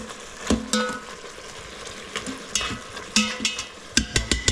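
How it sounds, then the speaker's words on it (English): Garlic sizzles in venison juices in a pot on saute mode for an Italian venison sandwich, a moderate crackle punctuated by repeated clanks and scrapes of a stirring utensil, no talking. "Still on saute mode here, so keep on sauteing."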